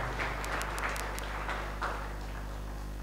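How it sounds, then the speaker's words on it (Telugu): Scattered applause from a church congregation for a priest at his first Holy Mass, light and distant, with a few sharp claps over a steady low hum. "ఫాదర్ గారికి కొద్దిగా గట్టిగా చప్పట్లు కొడదాం."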